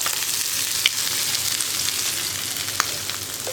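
Mustard seeds, dried chillies and curry leaves fry in coconut oil with a loud, dense, continuous sizzle and crackle, broken by a few sharp pops.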